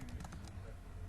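Rapid, faint clicks of fingers typing on a computer keyboard, a quick burst of keystrokes close by.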